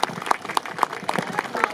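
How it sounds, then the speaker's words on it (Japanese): An audience applauds a YOSAKOI parade dance performance at a Chiba festival, with steady clapping that carries a rhythmic pulse of sharper claps at fairly even intervals. "皆様もう一度大きな拍手をお願いします"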